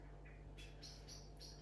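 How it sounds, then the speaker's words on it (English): Small songbirds chirping faintly in the distance outdoors, a few thin repeated high tweets over a steady low background hum, with no one speaking. "I think my cat just heard the birds"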